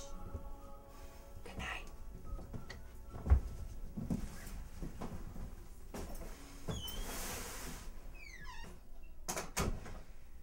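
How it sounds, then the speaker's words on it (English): A door is pushed shut with a single dull thump near the middle of the clip, among faint shuffling, movement noises and quiet background sounds. "Shut the door."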